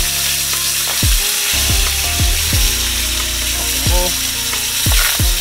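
Limpets sizzling loudly in a frying pan, a dense continuous hiss broken by repeated scraping and clattering as shells are placed or moved, close and busy, with no voices.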